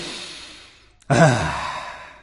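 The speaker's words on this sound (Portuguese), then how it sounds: "respiração profunda e inspirem" A deep breath taken during a vocal warm-up exercise: a quiet airy stretch, a short pause, then a sudden loud, full inhale that swells and slowly tapers off, close and alone.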